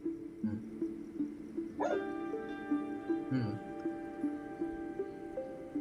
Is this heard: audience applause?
no